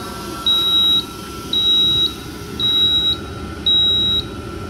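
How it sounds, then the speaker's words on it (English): An AirClean Systems Powdersafe 700 ductless balance enclosure fume hood alarm beeps four times in a steady, evenly spaced pattern, each tone lasting about half a second, loud and close over a low steady hum. "Alarm enabled."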